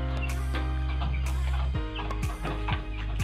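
Two-month-old F1 inbred chickens cluck in a tiered coop fitted with manure drawers, a steady close chorus of overlapping clucks and calls with no talk.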